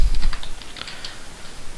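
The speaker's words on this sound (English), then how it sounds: "You can do that simply by typing in the name of the street" Quick keystrokes on a computer keyboard while a street name is entered into a property records search, a short run of light clicks close by with no talk over them.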